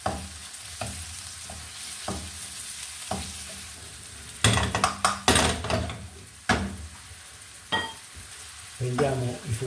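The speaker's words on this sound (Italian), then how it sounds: "uniamo i funghi che sono già cotti, ma comunque è meglio che si insaporiscano, con un intingolo di cipolla" Cooked mushrooms sautéing with onion in a pan for a mushroom and tomato bucatini sauce, giving a steady low sizzle broken by a cluster of louder stirring scrapes and utensil clatter in the middle and near the end.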